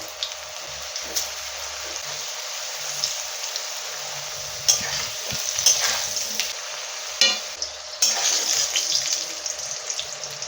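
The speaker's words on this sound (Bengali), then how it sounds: "এই মাছ ভাজার তেলেতেই আলুগুলো ভেজে নেব" Potatoes frying in the mustard oil left from frying fish, a steady crackling sizzle up close, broken by several sharp knocks and scrapes of a spatula stirring the pan.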